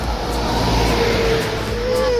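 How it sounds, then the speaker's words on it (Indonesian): Steady rush of several cars speeding past on a road, a continuous broadband roar with low engine rumble, loud and close throughout with no clear gaps. "Oh, banyak mobil aja laju ini."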